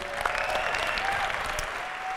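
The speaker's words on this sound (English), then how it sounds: "Give them a warm round of applause" Applause from an esports event audience at DreamHack in Stockholm, a dense steady clapping that fills the whole stretch at even loudness, with no speech over it.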